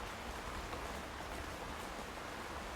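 Heavy rain pours steadily through a pine forest, a dense even hiss of drops on needles and ground with no pauses and no voices.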